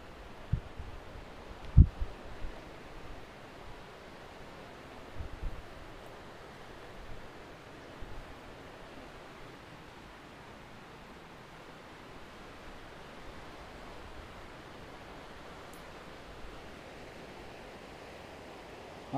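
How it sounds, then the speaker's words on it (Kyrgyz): Steady, distant roar of the Ak-Suu river carrying across open ground, a continuous broadband rush with a few brief louder knocks near the start and no voices. "Ак суудун дарыянын шоокуну ушул жерге чейин угулуп"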